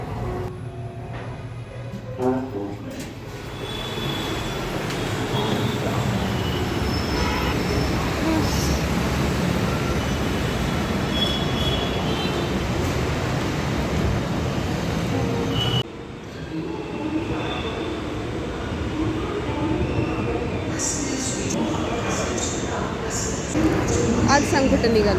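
A Hyderabad metro train runs with a continuous loud rumble and wheel noise, brief squeals and clicks, a short dip midway, and people talking faintly over it.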